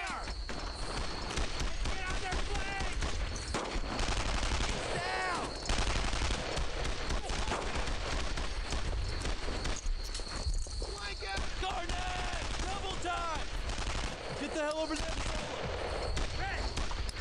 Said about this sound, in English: Just stop shooting at them.